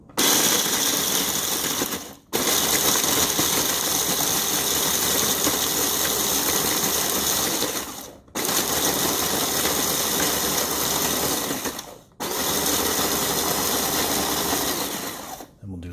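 An electric KitchenAid 3.5 cup food chopper runs on crackers in three long, loud whirring bursts separated by brief pauses, a steady close motor drone with a grinding edge.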